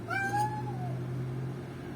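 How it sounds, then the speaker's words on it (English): A single cat meow, drawn out and slightly descending, heard nearby over a low steady hum, then quiet room tone. "I have a noisy cat."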